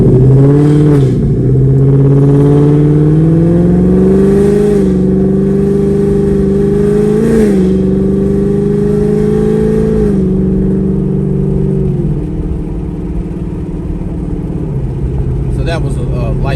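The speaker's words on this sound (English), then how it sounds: "That was a light acceleration up to about 50-55 miles an hour" A 2024 Ford Mustang GT in sport mode, fitted with a Kooks Green Catts exhaust, pulls onto a highway under light throttle, its engine note rising and shifting through gears with a loud, close rumble.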